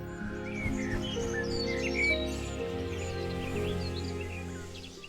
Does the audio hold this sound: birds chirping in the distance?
yes